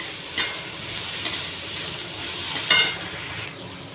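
Onions and curry leaves sautéing in a pan, giving a steady soft sizzle close by with a few sharp stirring scrapes against the metal, no talking.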